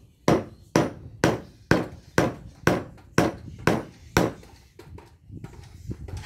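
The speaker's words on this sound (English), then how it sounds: "And we get the hammer. And we give it a bit of a bash." Hammer bashing a piece of timber held against transformer copper, about nine sharp, evenly spaced wooden knocks ringing out close and loud, then a couple of softer blows at the end.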